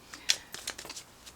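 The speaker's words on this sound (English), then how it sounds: "I want to give these cards a little bit more of a shuffle here." Tarot cards shuffled by hand in a few quick, soft riffling and sliding bursts, close and fairly quiet, with no talking.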